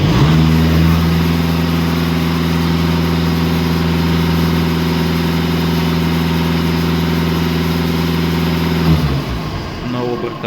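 Close, loud VW or Skoda engine running steadily at held revs with a strong low hum, then dropping back toward idle near the end; a voice speaks briefly under the engine.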